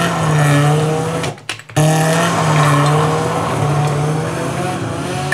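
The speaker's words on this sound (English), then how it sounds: "Might take that car and grab that dirt effects and piece the two of them together" A race car engine sound effect mixed with layered dirt and gravel effects for a rally-themed radio sweeper, loud and sustained with a steady engine drone, a sharp dropout near the middle, then the roar resuming.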